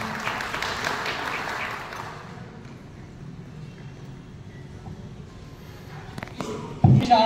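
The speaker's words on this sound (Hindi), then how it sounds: "एक बार जोरदार तालियों के साथ" An audience at a nursing college Independence Day event applauds to welcome a performer, the clapping fairly distant and fading after a couple of seconds into a quiet room with faint movement, then a sudden nearby bump at the end.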